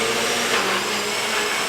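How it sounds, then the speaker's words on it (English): A blender blitzes a banana smoothie mixture with a loud, steady whirring roar, close up and unbroken throughout, with no voices over it. "blitz it with a blender for approximately 1 minute"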